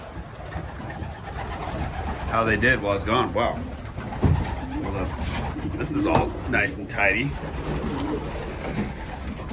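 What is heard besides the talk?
racing pigeons cooing in loft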